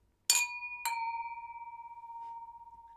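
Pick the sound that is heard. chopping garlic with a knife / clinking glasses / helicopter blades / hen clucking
clinking glasses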